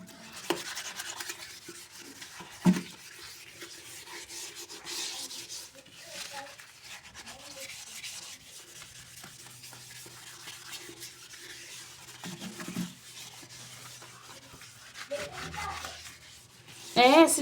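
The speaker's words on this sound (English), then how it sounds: "So I'll start by mopping my bedroom and clean." Wet mop pushed across a bedroom floor during a Saturday house clean, soft irregular rubbing and scrubbing strokes close by, with occasional knocks and brief faint voice-like sounds.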